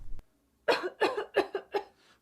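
A series of five quick, close coughs in a steady rhythm, each one raspy and distinct, in a flu medicine radio advertisement.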